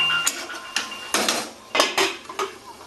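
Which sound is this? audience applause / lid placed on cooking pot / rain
lid placed on cooking pot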